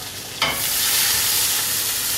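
Curry leaves and spices dropped into hot vegetable oil, a sudden loud burst of sizzling that settles into a steady, close crackling fry, with no talking.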